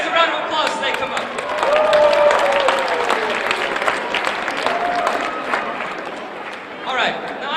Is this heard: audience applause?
yes